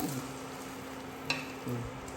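Thai-style omelette frying in a home kitchen pan, a steady sizzle close up with a few brief stirring or scraping knocks and no talking.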